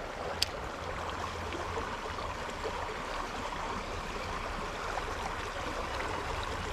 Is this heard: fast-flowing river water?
yes